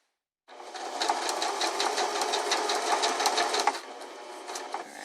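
A sewing machine runs in a close, steady burst of rapid stitching for about three seconds as it stitches fold over elastic onto fabric, then slows briefly before continuing.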